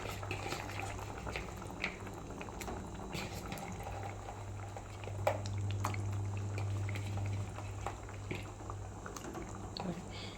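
Fish simmering in a pot during home cooking gives a steady low bubbling, with soft pops and drips scattered over about ten seconds at moderate loudness and no talk.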